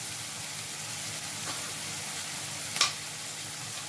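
Egg curry mixture sizzling in a pan while being stirred, a quiet steady fry hiss with a couple of brief scraping strokes near the middle and end.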